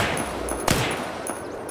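An M16A4 rifle fires semi-automatically at zombies in the game Unturned, a few sharp reports in quick succession with one louder shot standing out, no talk.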